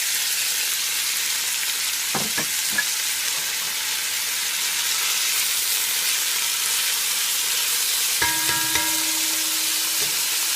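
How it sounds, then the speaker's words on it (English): Onions frying in 1.5 tablespoons of hot coconut oil give a steady, close sizzle throughout, with a few sharp clinks of a utensil near the start and again near the end, and no voices. "So we're going to drop our onions."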